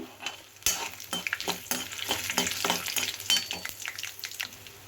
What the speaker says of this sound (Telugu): మనకి వేగుతున్నప్పుడు ఒక 3 ఎండుమిర్చి చీల్చుకుని వేసుకుందాము